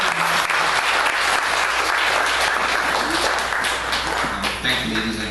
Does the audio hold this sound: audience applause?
yes